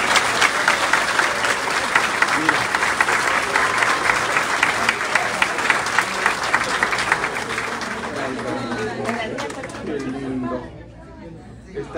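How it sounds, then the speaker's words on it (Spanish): A church congregation applauds warmly after a newborn baby is presented, with loud sustained clapping and chatter lasting about ten seconds before it fades to scattered claps and quiet voices. "¡Un aplauso!"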